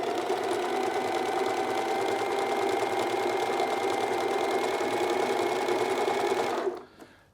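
An Alfa Practik 9 sewing machine sews a blanket stitch in a steady, fast mechanical whir with a rhythmic needle chatter, close and continuous, stopping abruptly near the end.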